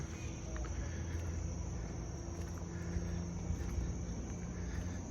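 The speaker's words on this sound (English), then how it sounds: "So you can really hear the crickets, which I really like." Crickets chirp in a steady, faint night chorus outdoors at Walt Disney World's Port Orleans Riverside resort, the high trill running continuously over a low hum of distant background rumble.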